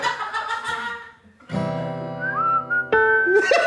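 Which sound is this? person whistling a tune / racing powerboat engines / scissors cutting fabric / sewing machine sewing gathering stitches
person whistling a tune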